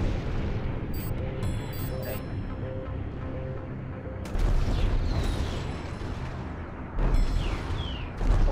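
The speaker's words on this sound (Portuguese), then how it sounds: "Tiros aqui." Gunfire in the space combat game Strike Suit Zero: dense rumbling booms and crackling shots, with bursts of sharper blasts that swell louder near the middle and end.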